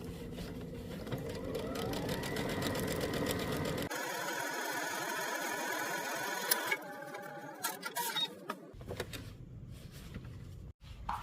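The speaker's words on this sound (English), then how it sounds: "Now you can take it to the machine and we're gonna understitch it, stitching the seam to the pocket from the front side" A home sewing machine understitches a pocket seam on a garment, its motor humming in steady runs that shift in speed, with a pause and clicks of handling partway through, close and moderately loud.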